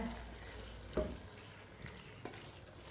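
Tomatoes cook in a pan for Hyderabadi chicken biryani, a soft, steady sizzle broken by a few knocks and scrapes of a spoon stirring them, close and fairly quiet with no talking.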